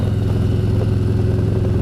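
A 2018 Harley-Davidson Road Glide Ultra motorcycle engine while riding, giving a steady, loud, low rumbling drone close to the listener with no talking.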